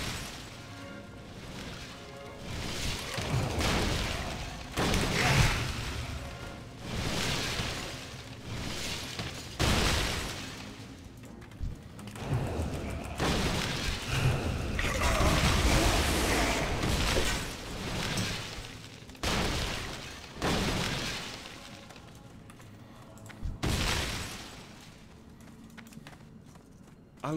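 Falling rocks crashing in World of Warcraft, heavy bursts of rumbling impacts and clattering debris arriving in repeated waves over a dense game soundscape.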